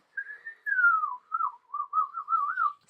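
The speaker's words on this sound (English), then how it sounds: "Stop whistling at my cat." A single person whistles a clear, wavering tune alone, a long sliding note followed by several short warbling ones.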